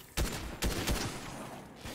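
Rapid bursts of gunfire from a video game as a player shoots at fruit, three or four loud volleys close together, then a lighter crackle and one final shot near the end.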